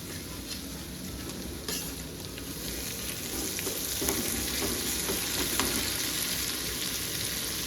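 Ginger and garlic sauté in a pan for a spicy matki bhaji, giving a loud, continuous sizzle and crackle with faint stirring scrapes throughout, and no voices.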